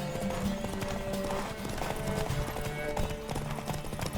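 Horse hooves clip-clopping at a quick pace while riding in The Witcher 3 video game, a rhythmic, fairly faint stream of hoof beats over low ambient game sound.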